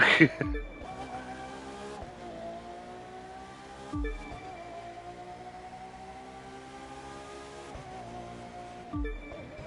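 A race car in a racing video game roars along, its engine note climbing and dropping through repeated gear shifts with a few short tire squeals, steady and fairly loud.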